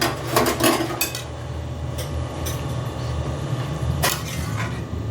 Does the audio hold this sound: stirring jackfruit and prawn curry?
yes